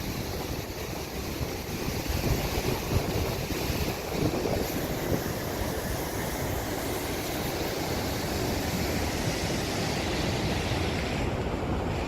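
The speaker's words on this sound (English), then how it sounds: "they had to open it today just because of the sheer amount of water that was going around the dam" Flood water at an overflowing downtown kayaking course in Wausau rushes around a dam in a continuous broadband roar, loud and close, mixed with gusty wind buffeting the microphone, with no voices.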